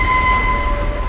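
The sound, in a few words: train sound from a Hitchcock film, The Lady Vanishes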